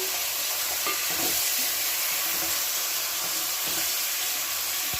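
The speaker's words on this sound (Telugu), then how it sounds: "ఈ చికెన్ అనేది ఇలా కలుపుకోవాలన్నమాట." Chicken curry pieces coated in masala and pink salt are stirred in a hot pan, giving a steady bright sizzle with soft scraping stirs throughout, close and continuous, with no voices.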